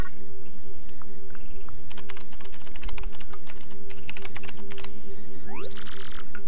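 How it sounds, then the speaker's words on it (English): Rapid keyboard typing sounds from the video game Paper Mario: The Thousand-Year Door, a quick run of clicky keystroke blips over a steady game music bed, ending with a short rising chime. "Use the keyboard to send whatever message you want."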